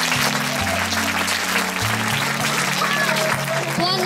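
Sustained applause from an audience at a children's festival event, dense steady clapping with a musical backing underneath throughout.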